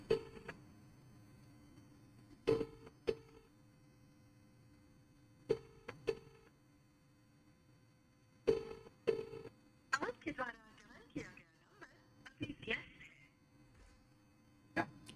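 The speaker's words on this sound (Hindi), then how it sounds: "माता जी के पास फ़ोन करता हूँ रुको" A phone call rings out on a line, repeated short tonal beeps in pairs spaced a few seconds apart, fairly faint, with a person talking briefly over the later tones.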